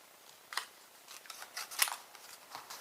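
Detailed Pro shears snipping around a paper flower cut from scrap paper, a string of short, crisp cuts at an uneven pace, close and fairly quiet, with no voices.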